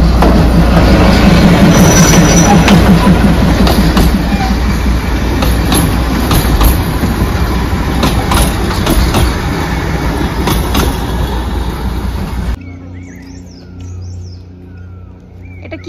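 A toy train rolls past on the hill line near Paglajhora in North Bengal, a loud close rumble with rhythmic clacking and squeals that cuts off abruptly, leaving faint bird chirps in quieter surroundings.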